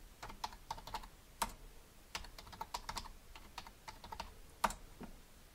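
Computer keyboard keys tapped in short irregular bursts, typing a new password on a Raspberry Pi running Raspberry Pi OS, with crisp close clicks and small pauses between keystrokes and no voices.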